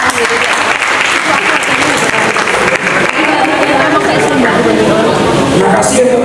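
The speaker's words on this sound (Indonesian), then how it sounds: "saya beri aplaus untuk kalian" An audience at a campus film festival in Malang applauds the organizing committee, a loud, dense, sustained clapping from many hands that fills the room throughout.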